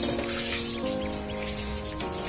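Liquid tamarind, tomato, salt and masala mixture poured into a pan of fish curry, a steady splashing, trickling pour heard close up throughout the short stretch.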